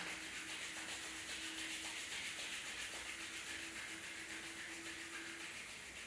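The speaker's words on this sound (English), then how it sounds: "Just rub your palms each other. Make your palms warm." Palms rubbed briskly together to warm them, a steady, close, breathy swishing friction continuing for several seconds without pause, with a faint tonal hum underneath and no talking.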